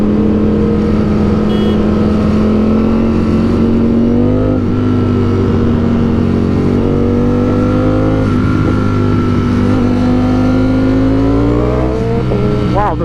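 A 2021 Ducati Streetfighter V4 motorcycle accelerates on Miami streets, its engine droning loud and close with a strong, steady tone that rises and falls as the revs change, ending in a sharp climb.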